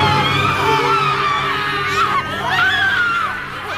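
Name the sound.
radio static with distorted screams, audio drama effect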